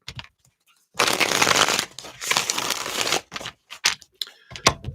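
Tarot cards shuffled by hand in rapid riffling bursts, two long loud stretches followed by shorter scattered flicks and taps, close and alone without talk.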